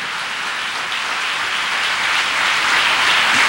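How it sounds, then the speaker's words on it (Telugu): A church congregation at a Sunday service claps loudly and continuously, a dense, even wash of many hands that swells slightly toward the end, with no talking. "కోట్టో చప్పట్లు శక్తితో గట్టిగా"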